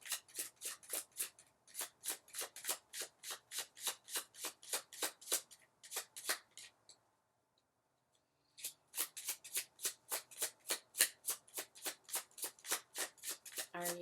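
Oracle cards riffled and shuffled in rapid, regular bursts of crisp flicks, close and fairly loud, with a short pause midway before the steady shuffling resumes.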